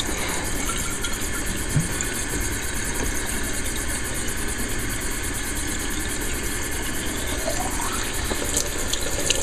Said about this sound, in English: Then I'll just rinse it up with some hot water or warm water.